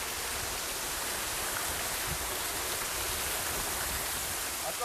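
An Armenian waterfall pours in a steady, close, unbroken rush of water with no pauses or voices.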